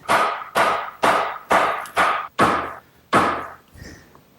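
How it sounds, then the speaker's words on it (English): A wooden mallet drives the rails of an English garden bench into their mortises: seven sharp, evenly spaced knocks, loud and close, then a fainter final tap. "drive them down with my mallet"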